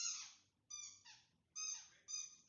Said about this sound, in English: The dog is paying her respects.